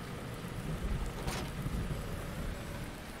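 Rain falling on a farm in the Farming Simulator 19 video game, a steady hiss of rainfall with a brief rumbling swell, no talking heard.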